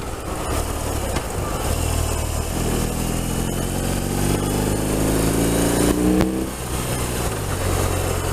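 A loud motorcycle engine runs steadily, then revs up with a rising whine that climbs for several seconds before dropping back to a rumble.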